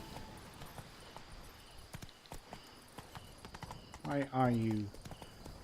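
Hooves of Roach, Geralt's horse in The Witcher 3, clip-clop in a steady walking rhythm, growing louder and closer toward the end, with someone talking over them.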